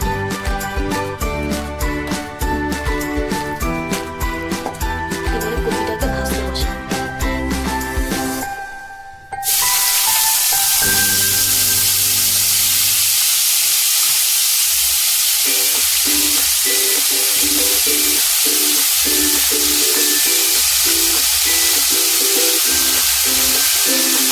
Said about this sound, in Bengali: এবারে কপিটা ভাজতে বসাবো কড়াতে।